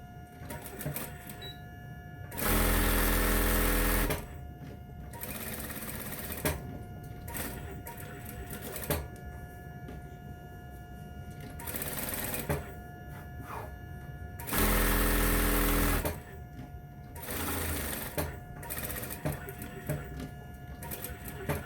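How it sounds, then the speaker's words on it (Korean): A domestic sewing machine stitches darts on a fabric bag, running in two loud bursts of a few seconds each, separated by quieter handling and rustling of cloth. "조금 전에 설명해 드린 것처럼 박음질 하도록 할게요."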